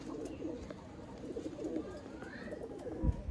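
Red-eyed pigeons coo softly over a steady background hum, with a brief louder thump near the end.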